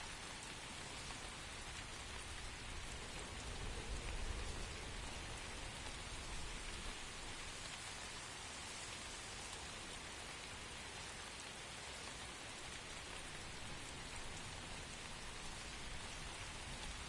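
Heavy rain in the video game The First Descendant, a steady dense hiss of downpour that stays constant and even throughout, with no voices.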